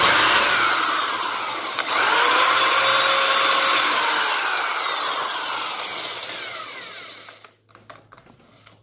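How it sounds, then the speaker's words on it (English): Power drill boring a hole through a metal cymbal, a loud continuous whining grind with ringing metallic overtones that slowly fades and stops near the end. "still got a little bit more drilling to do"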